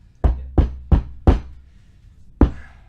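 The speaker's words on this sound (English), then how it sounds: "pounding heavily on the door with gloves." Heavy gloved pounding on a door: four loud, dull thuds in quick succession, a pause, then one more heavy blow, close and alone.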